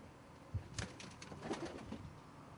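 Color pigeons cooing inside a loft, a few soft low coos with a brief flutter, faint against quiet room noise.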